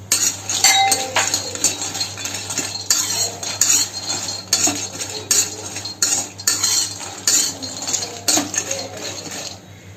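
Cashews roasting in a pan for sathu maavu are stirred with a metal spoon, giving repeated scraping and clinking strokes against the pan with faint sizzling underneath. The strokes come in an uneven rhythm, close and clear.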